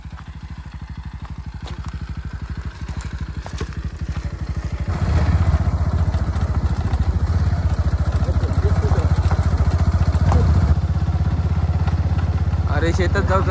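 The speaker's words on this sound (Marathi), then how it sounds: "तो बघा बाबा बाईक घेऊन दिलो रिटर्न योगेशक सोडून." A motorcycle draws near on a rural road, its engine thrumming faintly at first and then growing louder and fuller after a few seconds, staying close and steady with a clatter near the end.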